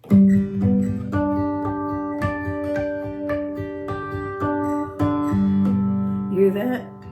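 A Martin SC13e acoustic guitar plays a harp-like run of chiming harmonics mixed with plucked notes, a steady sequence of ringing tones over about seven seconds, close and solo.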